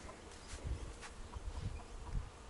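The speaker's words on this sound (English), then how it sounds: "Covered in bees and hoverflies, and just loves it." Steady buzzing of bees and hoverflies close by on an elder in flower, a continuous insect drone with low wingbeat hum swelling and fading as they move around.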